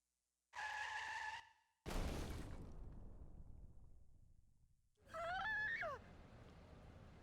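A truck in the Jujutsu Kaisen Phantom Parade game lets out a loud, tonal tire skid, then a heavy crash that booms and trails off in a long decaying rumble, followed by a shrill, wavering squeal.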